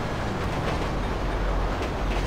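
A train rolling past in GTA Online, a steady loud broadband rumble of heavy rail wagons filling the whole moment without pause, with no voices over it.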